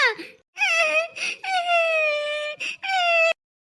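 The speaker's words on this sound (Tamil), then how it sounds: "குழந்தை கத்துற சத்தம் கேக்குதுல்ல" A young child cries and wails in drawn-out, rising and falling bursts with brief pauses, loud and close, with no talking.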